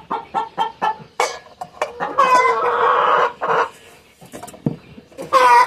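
Free-range chickens cluck close by in a busy, irregular chorus of short calls and longer drawn-out squawks, with a hen's extended cackle in the middle.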